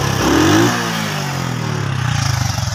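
The engine of a 2017 model vehicle runs close and loud, revving up briefly and then settling into a steady, pulsing idle rumble.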